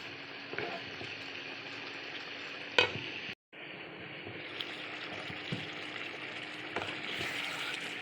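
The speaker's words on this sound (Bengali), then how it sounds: "মাংস ভালো করে কষিয়ে নিতে হবে নেড়ে কিছুক্ষণের জন্য ঢেকে দিতে হবে" Beef browning in a pan with bottle gourd to come, a steady sizzle and fry with scraping spoon strokes stirring the meat, close and continuous, with one brief sharp knock and a short gap midway.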